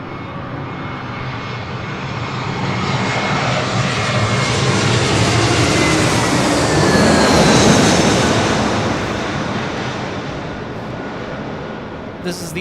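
A JetBlue Airbus A321 airliner arriving from JFK roars past at LAX, its engine noise swelling to a broad peak midway before easing off, loud and continuous throughout the pass.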